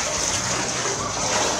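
A vehicle pushes through deepening water inside a dark tunnel, giving a continuous loud rush of splashing and sloshing with a low rumble underneath.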